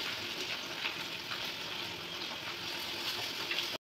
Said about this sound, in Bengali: মাছ ভাজা হয়ে গেছে, এবার মাছগুলো তুলে নিই